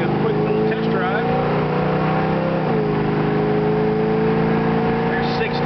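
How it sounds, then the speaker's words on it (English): A 1970 Corvette convertible RT recreation with a 440 engine drones steadily on a test drive, with loud, continuous in-car engine and road noise and a brief shift in engine pitch partway through. "this is our 1970 Corvette convertible RT Recreation 440 car. Just wanted to give you a quick little test drive."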